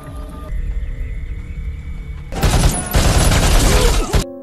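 Film soldiers fire rifles into a camp, a dense burst of overlapping gunfire and booms erupting after a quieter low rumble, loud and sustained for a couple of seconds before cutting off.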